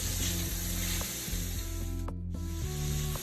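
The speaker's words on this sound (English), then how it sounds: "We're just going to stir fry our shrimp for about a minute or two until they're cooked." Shrimp stir-frying with seafood seasoning in a hot pan, a steady close sizzle with a brief scraping stir and a short lull in the middle, no talking.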